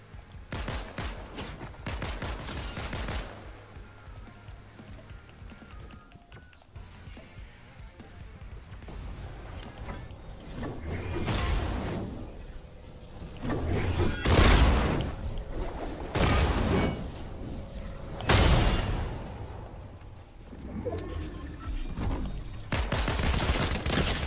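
Video game gunfire from two players shooting at once: bursts of rapid shots come in clusters over steady game ambience, growing louder and denser in the second half, with talk heard now and then.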